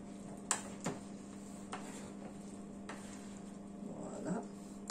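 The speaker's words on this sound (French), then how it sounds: "je commence déjà à mélanger un peu" A tablespoon stirring homemade fruit salad in a bowl, with a few faint scattered clinks and soft scraping taps over a quiet background hum.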